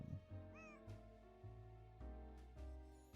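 A cat in a Nancy Drew video game gives a short meow near the start, heard over looping game music with soft thuds recurring through it.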